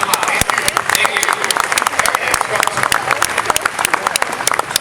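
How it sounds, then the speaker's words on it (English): A crowd at a fan event gives a round of applause, dense sharp claps and cheers close by, lively and uneven, with voices mixed in. "Just one round of applause."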